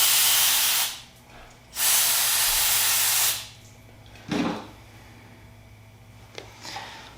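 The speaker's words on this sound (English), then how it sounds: "Spray it down and dry it out here." An aerosol cleaner hisses as it sprays down a fuel-soaked engine part from an Arctic Cat M7 snowmobile. Two long, loud bursts come close to the mic, followed by shorter spurts and a few faint handling sounds.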